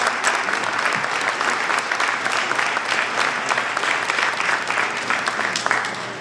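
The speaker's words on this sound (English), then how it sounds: "So again, if we have a nice round of applause for all the elected officials." A crowd at a gathering honoring elected officials gives a steady round of applause, dense continuous clapping throughout with a faint voice underneath.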